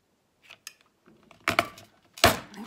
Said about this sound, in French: Et donc me revoici avec ma perforatrice de bordure.